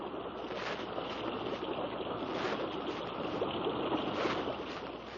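River water rushing steadily around a long wooden dugout canoe racing downstream, a dense, continuous wash of flowing water with no voices.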